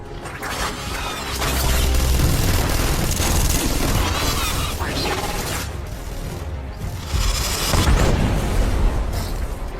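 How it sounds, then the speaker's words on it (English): A dropship exploding in a video game, heard as a sustained loud roar of blasts, crashing debris and grinding mechanical noise that surges in waves for the whole stretch. "This dropship is about to explode."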